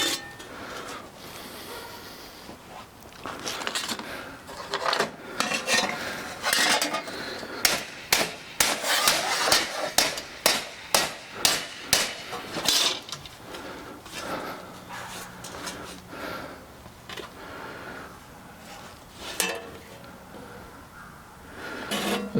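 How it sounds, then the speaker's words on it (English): Sharp metallic hammer-and-dolly blows ring out on sheet metal, starting scattered and then coming in a fast, steady run of strikes before tapering off. "Hammer and dolly work."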